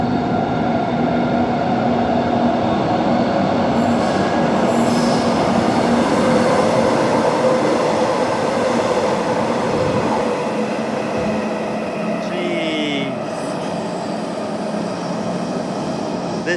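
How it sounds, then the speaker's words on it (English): A passenger train on the Ellenbrook Line rushes at high speed through a tunnel past a station without stopping, a loud, sustained roar of wheels and rails with a faint squeal, staying close and steady throughout. "The next train to Daglish does not stop at this station, and in it comes high speed through the tunnel."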